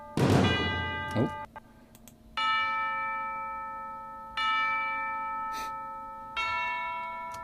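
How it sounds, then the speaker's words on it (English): Tubular bells from the CinePerc Core percussion library strike on downbeats, four bright metallic hits spaced about two seconds apart, each ringing out with long sustained overtones; a dense low percussive thump opens the passage. "you can see I've actually used quite a lot of tubular bells here"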